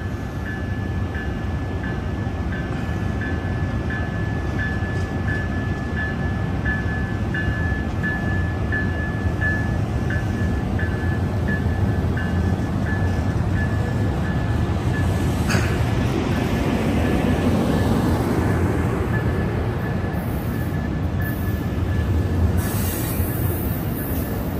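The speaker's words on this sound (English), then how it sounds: "SC44 Siemens Charger 2107 leads off." An Amtrak train led by a Siemens Charger SC44 locomotive rolls through the Oakland Coliseum station with a steady heavy rumble of wheels and cars, a faint high tone above it, and a brief squeal and clatter near the end.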